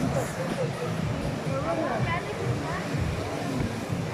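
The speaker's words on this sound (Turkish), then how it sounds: "şimdi arkadaşlar burada bir tane şelale var" A waterfall roars with a steady, close wash of rushing water, while a person talks over it throughout.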